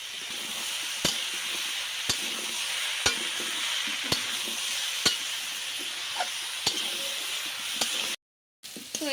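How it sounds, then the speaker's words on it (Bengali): Jackfruit and potato pieces fry in oil in a pan, a steady hissing sizzle with a sharp spatula tap roughly every second, nearby and even, briefly cutting to silence near the end. "এঁচড় আলু আমার যতটা ভাজার দরকার ছিল ততটা ভাজা হয়ে গেছে"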